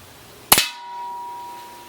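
A single sharp metallic clang as a Webley Tempest pellet pistol's shot strikes a metal target, followed by a lingering ringing tone that slowly fades.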